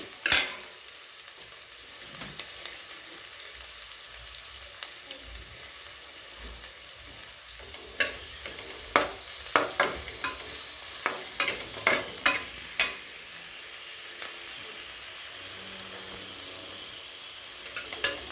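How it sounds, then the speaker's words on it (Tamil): Onions fry with cinnamon and cloves in a pan for tomato rice, a soft steady sizzle under repeated sharp scrapes and clacks of a spatula stirring, growing busier in the middle. "வெங்காயம் வதங்கிடுச்சு."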